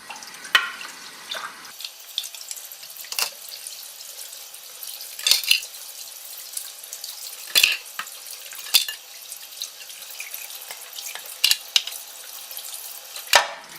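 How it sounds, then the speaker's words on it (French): Tap water running into a sink while a small brush scrubs juicer parts, a low watery hiss broken by repeated sharp splashes and knocks up close. "on fait couler l'eau en utilisant la petite brosse qui va bien"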